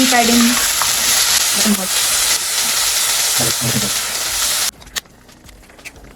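Garlic and tomatoes fry in a pan with a loud, dense sizzle and hiss that drops abruptly near the end, leaving quiet scraping and clatter.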